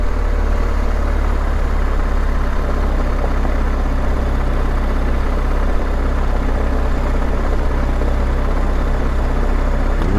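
A vehicle rumbles and rattles steadily over city cobbles, a dense, continuous low drone with no pauses, heard up close from on board.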